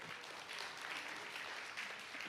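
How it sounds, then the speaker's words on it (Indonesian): An audience at a church sermon claps steadily. The applause is a dense, even patter that sounds distant and faint, with no talking over it. "Tepuk tangan."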